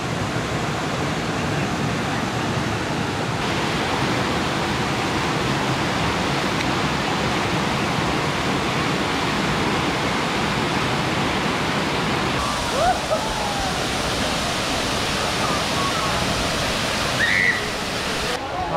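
Waterfall at Erawan National Park roars as a steady, loud broadband rush of falling water throughout, with faint voices and a brief whistle-like sound near the end.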